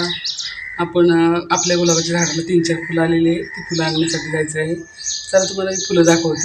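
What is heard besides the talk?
sparrows chirping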